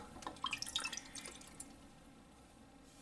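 Water drips and trickles while a sharpening water stone is rinsed clean of gray metal residue, with a few bright, close drops early on fading to a soft, faint wash of running water.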